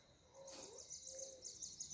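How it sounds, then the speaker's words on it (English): Birds perched on power lines chirp faintly in the distance, a few short calls over soft background hiss. "I was just watching the birds on the power lines and listening to the voices of the birds singing."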